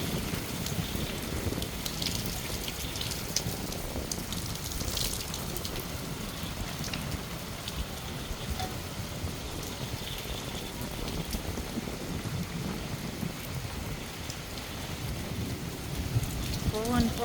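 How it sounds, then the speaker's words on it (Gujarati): Heavy rain pours in strong wind over a rooftop terrace, a dense continuous roar with thunder rumbling low beneath it, steady and close throughout. "ફૂલ વરસાદ આવ્યો છે અત્યારે."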